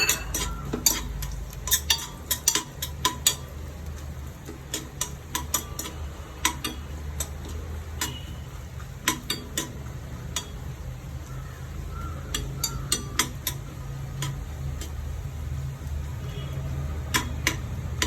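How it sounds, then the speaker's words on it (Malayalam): Chopped coconut roasting in a pan for kalathappam, with a spoon scraping and clinking against the pan in quick irregular taps over a low steady rumble, close by and without talk. "ഇതില് ഒരു പിടി തേങ്ങ ചെറുതായിട്ട് അരിഞ്ഞതാണ് അത് ചേർത്തൊന്ന് വറുത്തെടുക്കാം"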